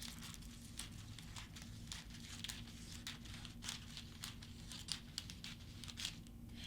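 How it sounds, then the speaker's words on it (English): Quiet, repeated snips of scissors cutting through a thin crinkly sheet of heat-transfer foil, with a soft hum in the background. "you're just going to trim a big piece with your scissors like this"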